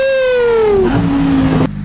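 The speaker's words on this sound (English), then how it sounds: "let's put the windows down and hear the V10 while we head up to Lambo Broward" A Lamborghini Huracan STO's V10 engine while driving with the windows down, loud and close: a strong tone sliding downward, a quick shift to a lower, steadier drone, then an abrupt cutoff.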